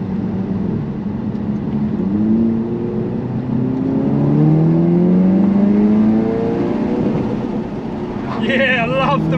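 A manual Mk3 Audi TT with a stage 2 remap revs up and climbs through the gears, droning loudly and steadily close by, with a brief higher whine near the end.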